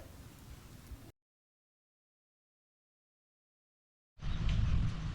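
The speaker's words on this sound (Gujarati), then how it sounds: "ધીરો ધીરો વરસાદ છે" Light rain falls steadily outdoors, a soft hiss that fills the opening second, cuts to silence for about three seconds, then returns louder and closer near the end.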